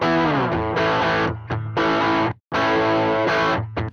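Distorted electric guitar chords run through a noise gate, with bursts of chunky playing that cut to near silence between phrases, loud and upfront with no voice.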